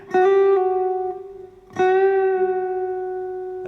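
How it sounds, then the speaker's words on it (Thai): An acoustic guitar note is plucked twice, each ringing out with its pitch bent up a half step before settling, close and clear with no talking, from the solo of a song. "ดันขึ้นไปครึ่งเสียงนะครับ แล้วก็ปล่อยลงมานะ"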